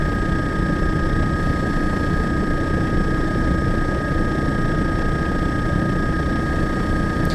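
An EC135 helicopter lifts off a pad and moves away in a flight simulator game, its turbine and rotor making a loud, steady drone with a high whine that stays close and unbroken throughout.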